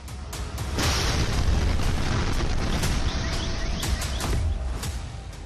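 A drone explosion makes a loud, sustained blast and rumble that fills the air, with sharp cracks and debris-like bursts scattered through the roar.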